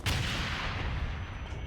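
Enemy gunfire in the shooter game Wanted: Dead, a sharp blast at the start followed by a dense, rumbling wash of shots and booms.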